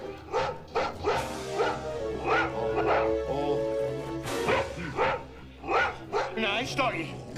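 A dog barks and yips repeatedly in short bursts, close by, with people talking over and between the barks.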